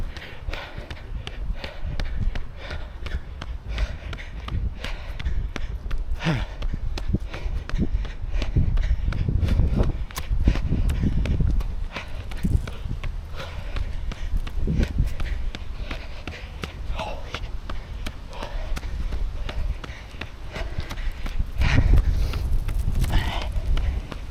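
Slow running footsteps in Adidas Adizero Takumi Sen 11 shoes climbing a steep trail, a steady rhythm of soft close impacts with heavy breathing throughout.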